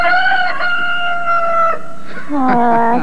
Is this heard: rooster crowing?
yes